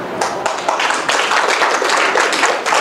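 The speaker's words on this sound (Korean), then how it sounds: "지금 박수 치시는 것 같아요" A church congregation applauding, steady dense clapping from many hands filling the room, fairly loud and even throughout with no speech over it.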